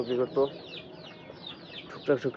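A few short, close clucks from 32-day-old chickens in a poultry shed come in pairs at the start and end, with quiet stretches between them.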